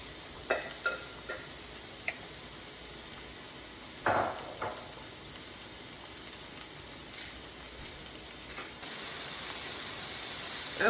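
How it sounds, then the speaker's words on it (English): Onions and mushrooms sauté in a pan, giving a steady soft sizzle with occasional clinks and scrapes of stirring, and the sizzle grows louder toward the end. "And I'm going to saute these until they're translucent, the onions. And the mushrooms are sweating,"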